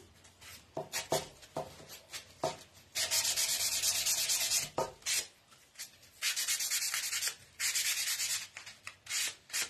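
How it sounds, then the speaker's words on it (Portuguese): Pallet wood is hand sanded with folded ordinary sandpaper, giving close, raspy scraping strokes: short back-and-forth bursts alternating with longer sustained rubs, with no talking. "eu sempre dobro a lixa, essa ou aquela lixa comum"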